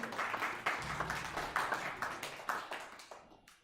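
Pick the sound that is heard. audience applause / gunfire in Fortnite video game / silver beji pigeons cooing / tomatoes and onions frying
audience applause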